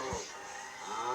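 A cow gives a low, drawn-out moo that swells and fades over a second, faint and somewhat distant, with no speech over it.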